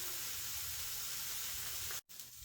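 Eggs fry in a pan beside salty ham at a home breakfast, giving a steady close sizzling hiss that runs evenly, breaks off in a brief silent gap near the end, then resumes more quietly.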